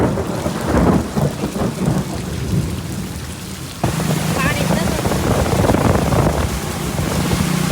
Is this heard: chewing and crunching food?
no